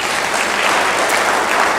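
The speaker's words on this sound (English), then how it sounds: "We should clap for them." A conference audience bursts into loud, dense applause, many hands clapping at once in a continuous wash of sound.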